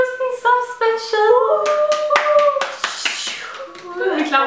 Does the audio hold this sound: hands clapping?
yes